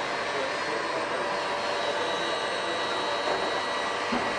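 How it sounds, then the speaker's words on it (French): An electric mixer beats a cooked mixture in a professional French kitchen, a steady whirring drone that holds constant and fairly loud throughout, with no talking over it. "The mixture is beaten for at least 5 minutes or until cooled completely."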